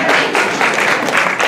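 Audience applause in a Nashville community talk hall, a dense, steady wash of many hands clapping at once, loud and close, with no talk over it for about a second and a half.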